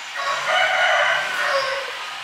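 Roosters and chickens in backyard coops, with a single drawn-out rooster crow ringing out fairly close and clear, rising and then tailing off.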